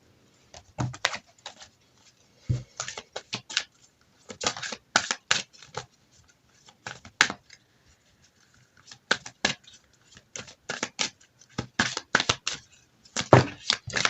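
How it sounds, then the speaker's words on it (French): Oracle cards shuffled by hand before an advice card is drawn, giving repeated bursts of crisp riffling clicks and flutters in uneven clusters with brief pauses, close up and fairly quiet, with no talking. "On va tirer une carte conseil."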